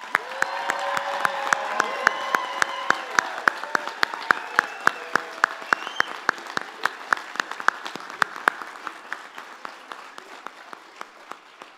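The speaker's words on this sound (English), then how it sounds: "Please join me in congratulating our new graduates with a loud round of" A commencement crowd applauds new graduates at the Oregon Tech ceremony, a dense wash of clapping with scattered cheers and voices that swells early and then slowly thins out while sharp individual claps stay prominent.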